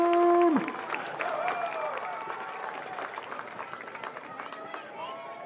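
A crowd in the stands at a high school football game applauds the cheer team, a sustained wash of clapping and crowd noise following a brief tonal sound at the start.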